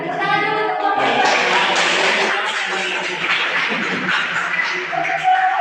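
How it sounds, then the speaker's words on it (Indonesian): Classroom of students clapping for a group, a dense burst of applause sustained for several seconds with voices mixed in. "tepuk tangan dulu untuk kelompok 2"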